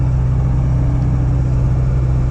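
A car drives along with a steady, loud, low engine and road drone heard from inside the cabin, constant throughout with no voices.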